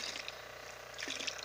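A small stream of water drips and trickles into a fish tank to aerate it. The splashing is soft and continuous, with faint bubbling patches over a low steady hum and no voice.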